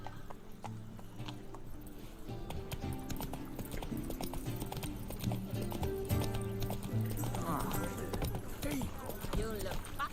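Roach, Geralt's horse in The Witcher 3, galloping with a steady clip-clop of hooves beneath game music and someone talking, with a snort near the end.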